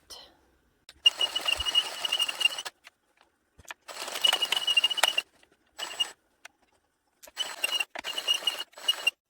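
Hand-cranked knitting machine working rows of a fabric tube for a dog door draft stopper, heard as bursts of fast whirring, clattering passes separated by short pauses, close and fairly loud with no talking.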